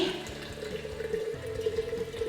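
Water pours from a jug into a jar in a steady, close trickling stream that runs unbroken and fairly quiet, with no talk over it.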